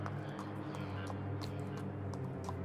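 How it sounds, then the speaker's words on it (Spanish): Horse hooves clip-clopping far off, a faint irregular patter of light knocks over a low steady background hum. "escucho a la lejanía el sonido que pareciera ser como los cascos de un caballo"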